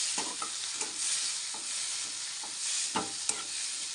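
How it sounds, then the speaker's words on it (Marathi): Garlic, onion and green chili frying in a hot pan over a raised flame, a loud continuous sizzle broken by irregular spoon scrapes and taps. "बघा, लसूण, कांदा, मिरची. Fry fry fry."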